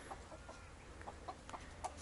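Chickens cluck softly as they are let into a garden area, several faint short clucks spread across the moment with no talking.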